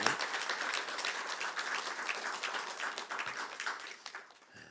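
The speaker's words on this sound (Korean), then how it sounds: "우리 박수로 한번 감사하고 축하합시다." A church congregation at a Sunday service applauds together, a dense, steady patter of many hands clapping that fades gradually toward the end.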